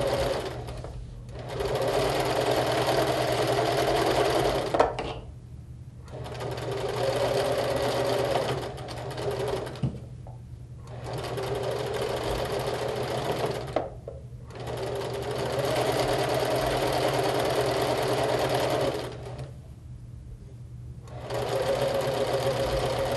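Quilt pieces are fed through a sewing machine in long, even runs of steady whirring, broken by brief stops to adjust the fabric, close and fairly loud with no talk.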